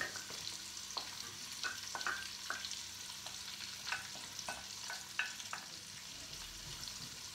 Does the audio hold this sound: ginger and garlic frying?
yes